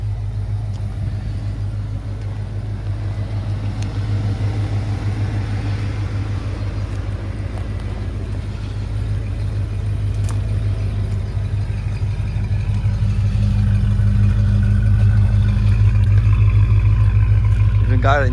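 A 1989 Ford Bronco XLT engine runs steadily with a deep low rumble, building slightly louder toward the end as it revs, close and continuous throughout.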